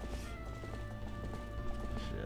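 A horse gallops in Zelda: Twilight Princess HD, a quick rhythmic clip-clop of hooves repeating steadily and fairly close, over in-game background music with a player's voice faintly present.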